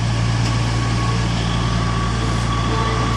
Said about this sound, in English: got a train coming out from the sidings, the 150.